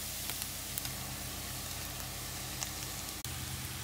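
Chicken hits onions frying in a pan and sizzles in a steady, dense hiss, with a few faint ticks and a brief dip partway through.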